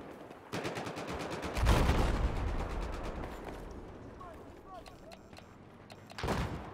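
Automatic rifle fire in Battlefield 4 on the Zavod map, several rapid bursts with a loud, dense volley midway and another burst at the end, mixed with other battlefield noise.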